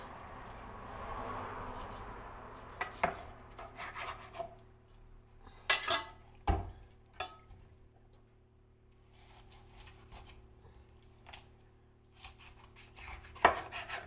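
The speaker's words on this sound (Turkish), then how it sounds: "Şöyle keseceğim. Parçalayacağım." Irregular knife chops and scraping on a cutting board while cutting up chicken with a dull knife, sharp thuds scattered among softer rubbing sounds, close by with no speech.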